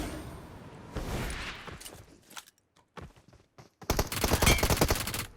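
Gunfire in the PUBG Mobile battle game: scattered single shots and short bursts, then a dense, loud volley of rapid automatic fire near the end, with quiet gaps between.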